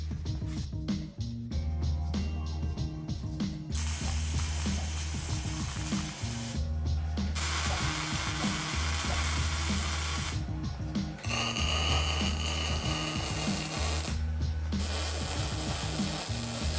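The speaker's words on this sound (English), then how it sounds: "I'll be using the MIG 205 Pro by Art Captain to fully weld them together." Continuous crackling sizzle of MIG welding with an Art Captain MIG 205 Pro on a 220 outlet, joining steel parts of a home-made automotive rotisserie; loud, steady bursts broken by short pauses between beads, with a strong low electrical hum throughout.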